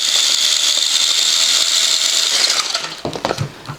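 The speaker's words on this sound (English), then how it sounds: "let's just see what wheel speed looks like here." The brushed motor of a Wendigo RC car runs on a 2S LiPo, its wheels spinning freely with a steady high whine that winds down and ends in a few clattering knocks.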